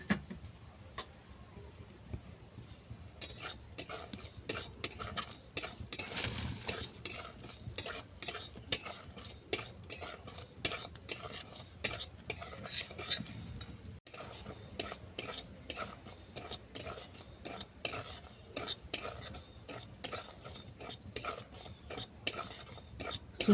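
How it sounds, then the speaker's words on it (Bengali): A spoon steadily stirring and scraping semolina as it dry roasts in a kadai, a continuous busy scrape and clink with no talk over it. "প্রথমে আমি সুজিটাকে কড়ার মধ্যে ড্রাই রোস্ট করে নিচ্ছি।"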